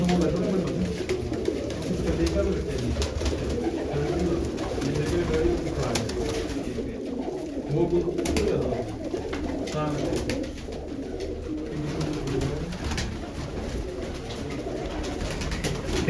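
Pigeons kept in a loft, including red bearded and black-patched birds, coo steadily in low murmuring layers with speech mixed in, several birds close by throughout.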